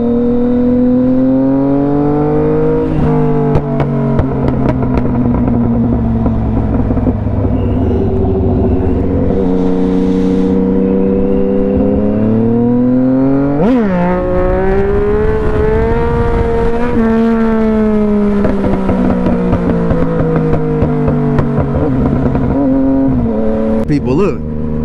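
A Yamaha FZ-09 motorcycle rides through city streets in Murfreesboro with a loud, steady engine note. Revs rise and fall with each gear change, and a voice is heard over the engine.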